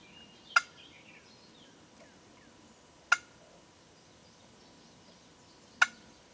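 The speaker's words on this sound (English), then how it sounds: "a pretty much realistic scared to death turkey sound" Three sharp, loud turkey clucks from a scratch box call, evenly spaced a few seconds apart, with quiet background in between.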